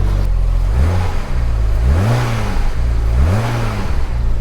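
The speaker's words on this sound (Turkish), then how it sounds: "Azıcık gaza basarız." A BMW car engine idles low and steady, then revs up and settles back down twice, loud and close with no talking.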